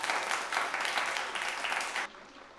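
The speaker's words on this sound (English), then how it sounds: "Big round of applause for Sarva." Moderate clapping from a school audience greets a student called to the stage at a Founders Day celebration, a brief, fairly faint burst that cuts off abruptly after about two seconds.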